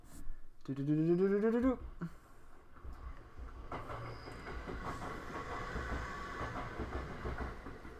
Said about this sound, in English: Time to show the train.